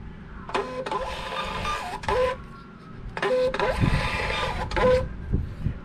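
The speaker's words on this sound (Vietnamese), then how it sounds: "máy in khá là nhanh nha" A Bluetooth thermal printer printing shipping labels runs in two short bursts of whirring feed noise separated by a pause, with small clicks and stepper whines, close and moderately loud.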